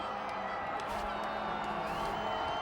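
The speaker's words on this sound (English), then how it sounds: "we're listening to the crowd" Dense, steady roar of a large outdoor crowd cheering at a Boston Bruins Stanley Cup victory parade, distant whoops and shouts rising from the din.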